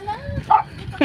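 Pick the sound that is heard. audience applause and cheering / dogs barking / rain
dogs barking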